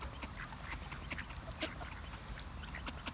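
A flock of ducks being fed doughnuts quacks continuously, with overlapping calls at moderate distance over steady outdoor background noise.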